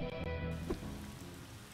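Rain in the video game Atom Zombie Smasher, a soft continuous hiss of falling rain with a faint hum of game ambience beneath and one brief thud, quiet and without voices.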